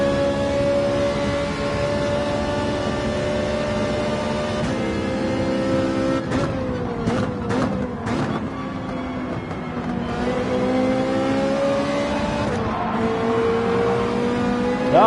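Race car engines in Gran Turismo 7 Sport Mode on the Nürburgring Nordschleife, including a GR4 Mustang, drone steadily with sustained tonal whine, pitches rising and falling through shifts, with a cluster of quick revving changes midway.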